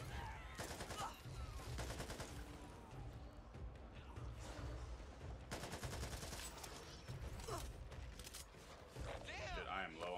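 Bursts of automatic gunfire from the zombie shooter game Back 4 Blood come in rapid fusillades, loud and dense in waves, with players talking over the shooting.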